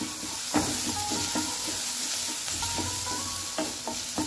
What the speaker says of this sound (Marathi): ठेचा व्यवस्थित तळून घ्यायचा।